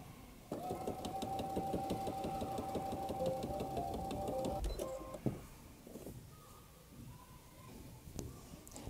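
A sewing machine runs a straight stitch seam on fabric for a Shrek costume. It gives a close, steady mechanical whir and rapid needle patter for several seconds, then stops, followed by quieter handling sounds.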